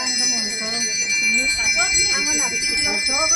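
Bells ring steadily at a Balinese temple ceremony, bright sustained metallic tones layered with a warbling chant-like voice throughout, loud and close.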